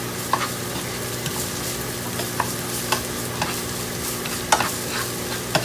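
Onions sauté steadily in a pan with a soft, constant sizzle and crackle, punctuated by occasional light scrapes and taps of a utensil stirring.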